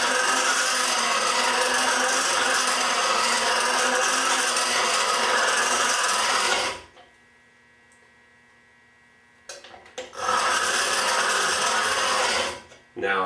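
Chisel being sharpened, a loud continuous grinding rasp with a steady hum that stops abruptly, leaves a quiet gap, then resumes for a few seconds.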